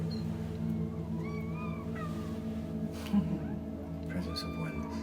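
Kittens give thin, rising and falling meows, several short calls spread out over a low, steady humming drone.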